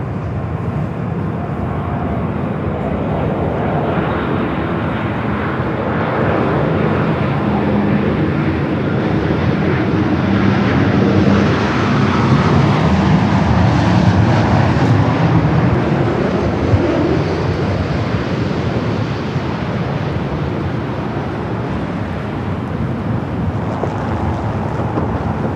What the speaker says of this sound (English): Rough landing there for that Dreamliner.